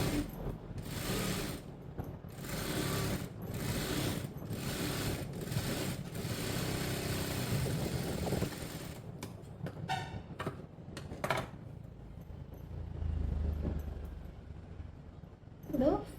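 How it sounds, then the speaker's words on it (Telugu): A sewing machine stitching the neckline of a blouse runs in steady, rhythmic mechanical bursts for several seconds, then stops, leaving a few short clicks and quieter handling noises. "ఇప్పుడు దీని మీదనే కుట్టు అనేది వేసుకుందాం."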